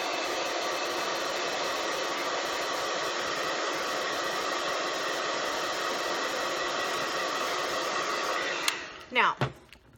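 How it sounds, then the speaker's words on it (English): A hair dryer blows with a steady, loud broadband whoosh for most of the clip, then cuts off near the end with a few brief clunks. "And then I'm going to go back with my hairdryer again."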